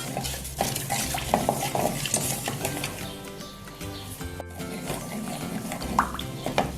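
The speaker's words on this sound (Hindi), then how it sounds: "ज़ीरा जो है वो फ्राई हो गया" Cumin seeds crackling in hot oil in a kadai, a close sizzle mixed with stirring clinks and scrapes of a spoon against the metal pan, with harmonic tones running underneath.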